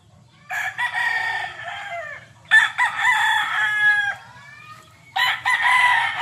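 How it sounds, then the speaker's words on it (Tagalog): Gamecock roosters crow loudly in three long, clear calls separated by short pauses, nearby and with no talking. "Mga gwapo ni mga manok ni dire oh."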